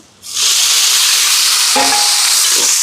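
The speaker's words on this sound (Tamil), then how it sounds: "இப்போ வெங்காயம் எல்லாம் வதங்குது பாருங்க" Onions sautéing in a pan for a large charitable community meal give a steady, loud sizzle and fry, with a brief clink of stirring midway and no talk.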